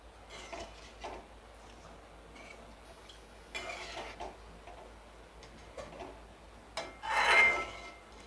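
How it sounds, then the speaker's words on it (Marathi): A spoon scrapes and rubs against a pan while stirring a thick horse gram flour pithla, giving soft, irregular close scraping strokes with a louder rasp near the end. "हे कुळथाचं पीठ लगेचच घट्ट होतं, त्याच्यामुळे हे सतत असं ढवळत राहायचं।"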